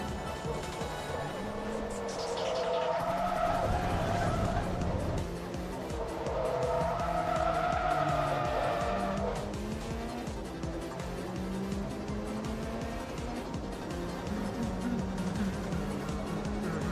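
A race car drifts through a corner in the Forza Motorsport 2 racing game, its tires squealing in long wavering screeches over a steady engine roar, loud and close throughout.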